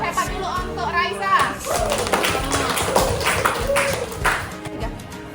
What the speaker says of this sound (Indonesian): kasih dulu tepuk hebat dulu untuk Raisa.